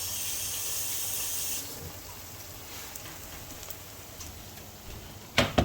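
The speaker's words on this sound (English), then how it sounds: "rinse off my fingers." Fingers rinsed under a running kitchen tap while battering squash for frying: a steady hiss of flowing water for the first stretch, then quieter background with a few soft clinks and a brief louder clatter at the end.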